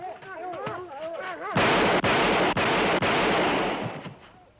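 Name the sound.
gunshots fired by guards in a film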